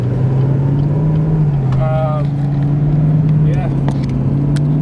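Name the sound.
2020 Chevrolet Camaro 2SS driving onto the freeway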